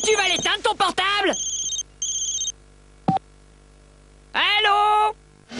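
Mobile phone ringing amid French television ads, with short electronic ringtone bursts repeating between spoken lines, close and clear and alternating with voices.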